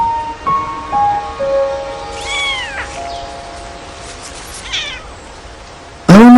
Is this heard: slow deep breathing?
no